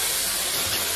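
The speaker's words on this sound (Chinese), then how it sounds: "放入葱姜蒜，放入黄酒" Scallions, ginger, garlic and yellow wine hit a hot wok for braised meatballs, giving a loud, steady, hissing sizzle with no gaps for about a second.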